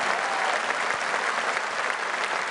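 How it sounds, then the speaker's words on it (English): Sustained applause from a large audience at a political rally in Birmingham, dense steady clapping filling the space without a break and no voices standing out above it. "I just want to take 2 minutes and give this man a round of applause."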